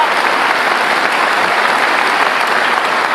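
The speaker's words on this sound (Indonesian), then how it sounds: "Oke, kita kasih tepuk tangan." A large audience at an Indonesian political talk applauds, giving steady, dense, even clapping throughout with no pauses.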